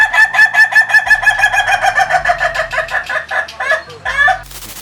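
Rooster crowing sound effect, a loud close-up run of rapid repeated clucks and crows in a steady rhythm, trailing off at the end, with no talk.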